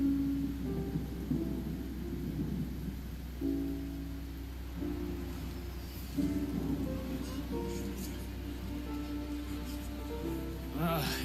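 Steady rain with low rumbling thunder rolling underneath in the video game Genshin Impact, a continuous wash of sound with a brief brighter burst near the end.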